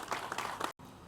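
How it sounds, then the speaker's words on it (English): Applause from the crowd at a movie premiere, a dense wash of clapping that cuts off abruptly after a moment. "Ladies and gentlemen, please, a round of applause as I bring forward Anne Njemaze."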